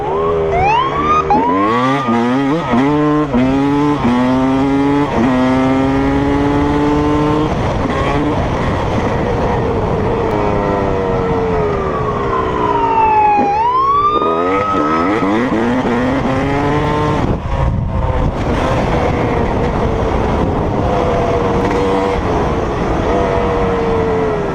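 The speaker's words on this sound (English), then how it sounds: "the police got so close to him that they activated the sirens to pull him over" A police siren wails continuously and loudly during a motorcycle police chase, its pitch sweeping up and down in rapid cycles, with traffic noise underneath.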